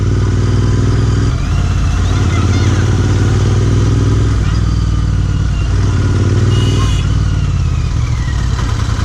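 A Royal Enfield Interceptor 650 motorcycle fitted with a MotoWings performance exhaust runs loud and close, a steady throbbing twin-cylinder rumble with slight rises in revs throughout.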